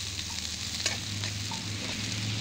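Jackfruit leaves being stirred in a hot frying pan, giving a soft continuous sizzle with light rustling and one sharper scrape, close and fairly quiet.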